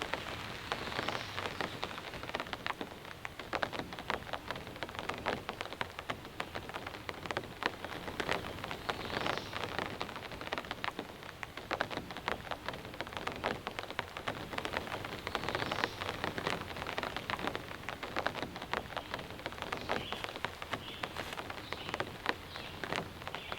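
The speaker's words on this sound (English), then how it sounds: "As you all can hear and see, the rain is very, very light." Light rain patters steadily on a tarp shelter at an overnight camp, a soft, dense, even hiss of drops that stays constant throughout with no voices.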